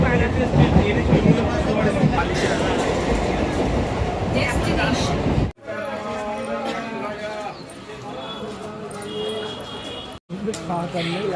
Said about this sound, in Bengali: ট্রেনের খবর হতে না হতে ট্রেনও চলে এসেছে